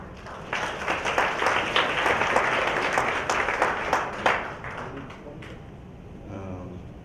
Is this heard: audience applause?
yes